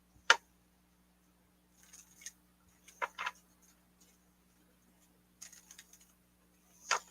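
Tarot cards being shuffled, faint soft riffling bursts and light taps spaced out over several seconds in a quiet room, with no talking.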